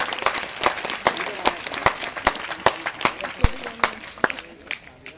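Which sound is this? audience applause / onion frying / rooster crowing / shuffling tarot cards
audience applause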